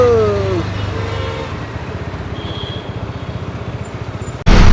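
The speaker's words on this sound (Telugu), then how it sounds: "గట్టిగా ఉంది భయ్యో ట్రాఫిక్." Dense road traffic rumbles close by with a pulsing engine drone and faint distant honks, ending in a sudden loud burst of noise.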